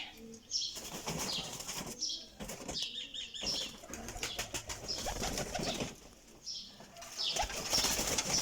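Pigeons coo and flutter close by, with bursts of wing flapping and soft bird calls running throughout, loud and busy.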